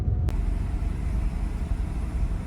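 A Mazda RX-7 FD rotary engine with a suspected vacuum leak idles unevenly, its low steady rumble bouncing and stumbling slightly, heard close with no talk.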